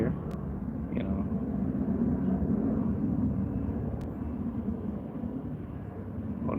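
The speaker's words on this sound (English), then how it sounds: "oh, that's a plane. I thought it was thunder rumbling." Airplane passing overhead makes a continuous low, thunder-like rumble that stays fairly steady throughout, heard from a distance with a couple of faint clicks and no clear talk.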